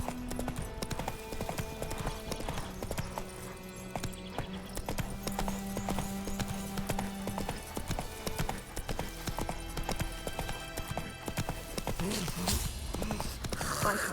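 Clip-clop of the horse Roach's hooves trotting steadily in The Witcher 3: Wild Hunt, a continuous rhythmic gait over game music, with a brief voice calling to the horse.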